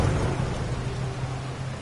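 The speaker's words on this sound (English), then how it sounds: "I love that it's raining in this scene." Rain pours in a cutscene of the video game Resident Evil 2 Remake, a dense broadband rush with a deep low rumble beneath it, steady and loud with no talking.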